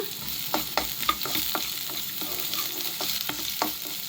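A green chili and half an onion sautéing in hot oil, a continuous close sizzle with regular scraping taps of a spatula stirring against the pan, no voices.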